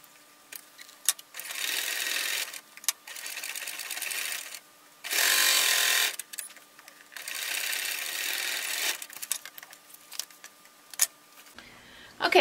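Sewing machine stitching a half-inch seam on a bag, running in several bursts of steady whirring separated by short pauses, close and clear.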